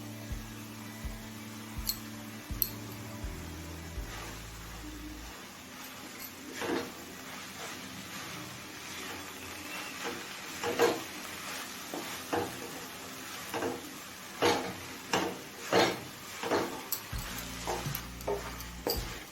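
Grated khoa being stirred in a pan over a low gas flame, with soft scraping and faint sizzling strokes repeating irregularly, close by with a low hum underneath.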